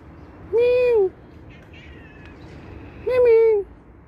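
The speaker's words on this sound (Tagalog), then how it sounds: "yung pusa ni Michael." A cat meows twice, clear and close, with a pause between the two calls and a faint chirpy sound in the gap.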